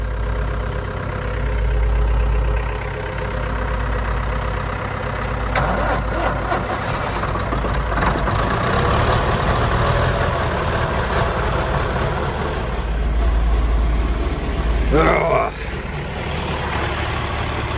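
Tractor engine idling after a very smoky cold start on a farm, a continuous low throbbing rumble with a slight rise and fall in the low end, close and loud, with a brief higher whine near the end.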